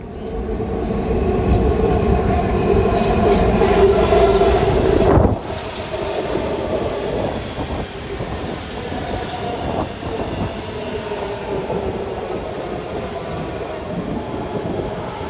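A Philadelphia elevated L train rides its rails with a loud, continuous rumble and rattle, a high wheel squeal ringing over the first stretch before the noise drops to a lighter clatter of wheels.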